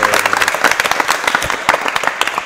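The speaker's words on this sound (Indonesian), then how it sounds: "tepuk tangan untuk kita semuanya" Group applause from participants at a welding teaching performance session, loud, fast and close clapping sustained throughout the short stretch.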